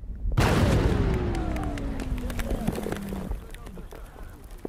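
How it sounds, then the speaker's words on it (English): Anti-tank mine blown up in a controlled demolition: one loud, sudden boom that rolls into a long, fading rumble, with a descending whine trailing over the decay. "That explosion was an anti-tank mine being blown up by Minatu's colleagues."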